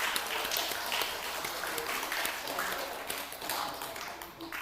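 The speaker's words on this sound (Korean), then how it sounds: "다시 한번 큰 박수로 5명의 아이를 축하해 주시기 바랍니다" Church congregation clapping steadily for five children at a Sunday service, a dense, continuous patter of many hands filling the room at moderate volume throughout.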